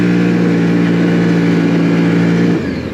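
A CFMOTO Cforce 800 Touring ATV engine holds a loud, steady high rev with a strong droning tone, then eases off near the end, heard close up with no talking.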